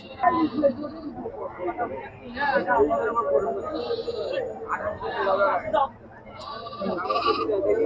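Sheep bleat repeatedly at a crowded goat and sheep livestock market in Chandaikona, calling near and loud in overlapping bursts while people talk and haggle over prices close by.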